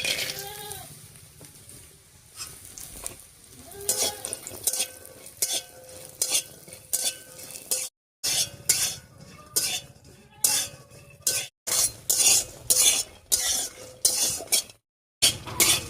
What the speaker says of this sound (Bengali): তেল গরম হয়ে গেছে, ডালের বড়িগুলো ভেজে নিচ্ছি